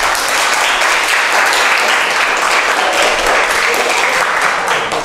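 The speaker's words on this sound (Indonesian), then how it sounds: "Tepuk tangan lagi." A class bursts into steady, loud applause, a continuous wash of many hands clapping together that holds evenly before easing slightly at the very end.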